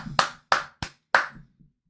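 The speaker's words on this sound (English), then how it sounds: "everybody clap it up" Four sharp, separate hand claps sound up close in an uneven rhythm, with silence between them and nothing else underneath.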